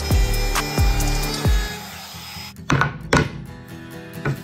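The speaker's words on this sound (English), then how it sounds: "Now I got a trim router with just a cutting bit, just poking out a little bit." A trim router fitted with a cutting bit mills out a wood board for a slide-in center console in a 1996 Ford Econoline van, sounding in a few loud bursts followed by sharper knocks.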